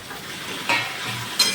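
Tomatoes hit a hot frying pan and sizzle steadily, with two short bursts of louder spitting as they are stirred.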